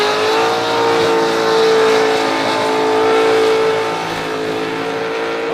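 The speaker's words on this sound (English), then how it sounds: "supercharger squealing" A car engine with a supercharger squeals and whines loudly at a street skid event, a sustained high, steady mechanical whine over engine roar that fades slightly near the end.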